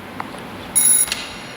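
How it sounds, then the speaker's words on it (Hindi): In-game phone ringing in the racing game Need for Speed Heat, a single short electronic ring burst with a bright buzzing tone, quiet and alone against a soft background hum. "Answer the phone. फोन को आंसर करना है।"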